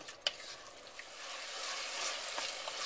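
Vegetables fry in olive oil for a marinara sauce, a close, steady hiss and sizzle with a few small pops and a faint stir near the start, no voices.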